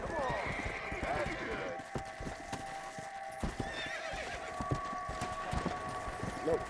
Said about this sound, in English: I think I found a horse of the apocalypse.